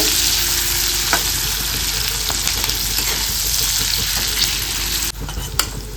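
Chopped green chillies fry in a pan, giving a loud, continuous sizzle under repeated stirring scrapes and a few sharp utensil knocks, without any speech.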